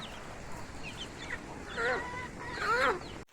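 Several chicken clucks and squawks rise in volume, close by, as they eat feed, over a low background hum.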